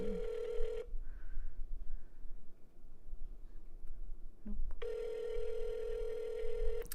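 A telephone rings on an outgoing call, with two long, loud ringback tones separated by a quiet gap. Each tone is steady, and there is faint background hiss between them.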